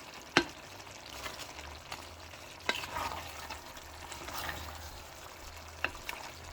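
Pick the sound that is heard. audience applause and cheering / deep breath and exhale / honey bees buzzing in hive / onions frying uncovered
onions frying uncovered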